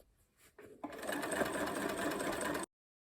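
A sewing machine stitches down binding around a dress neck edge, starting with a few slow stitches and then running at a steady, close whir for about two seconds before stopping abruptly.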